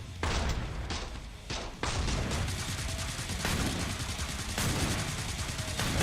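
Sustained gunfire in the video game Killing Floor 2, dense repeated shots and thumps running nearly continuously at close range with a few brief pauses.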